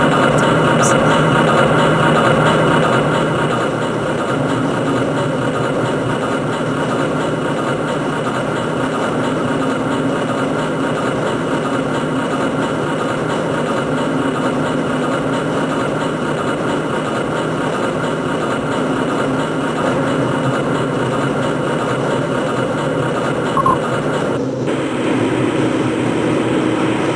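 Black Mesa transit train from the video game Half-Life: Blue Shift, a steady rumbling ride with a continuous low mechanical hum and rolling rail noise, loud and even throughout with a brief clank near the end.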